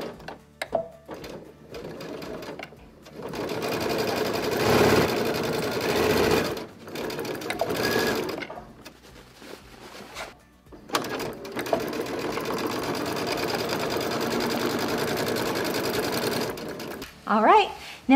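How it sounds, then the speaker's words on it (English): A sewing machine stitches a tote bag's lining in two long runs, with a steady, close whirring and a short pause in between. A speaking voice is audible at the start and end. "now I can go back to the sewing machine, just sew directly on that line"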